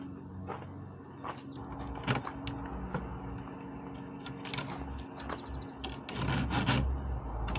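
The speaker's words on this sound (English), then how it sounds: "So we're gonna file it a little bit and try and make a better job" A hand file rasps against a plastic camera mount being trimmed on a van, producing a series of short scraping strokes with small knocks between them, moderately close and without speech.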